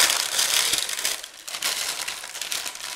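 Parchment paper crinkles and crumples loudly up close as it is pressed into a 9.5-inch springform pan, a continuous rustling with bursts of sharper crackles.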